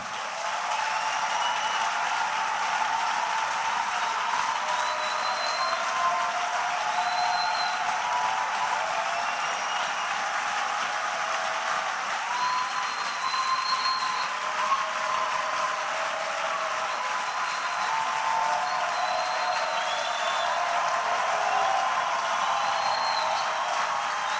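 A church congregation gives sustained applause and acclamations, a dense, steady wash of clapping and voices that holds at an even loudness for the whole stretch, with no speech on top.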